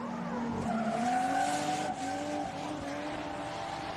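Drift cars, a Ford Falcon chasing a Nissan S13 at Pheasant Wood Circuit, NSW, roar through a corner with engines wailing and tires squealing steadily, heard from a moderate distance.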